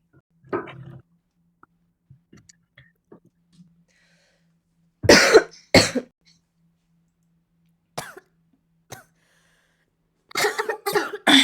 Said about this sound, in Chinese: 被我传染了，一下都开始咳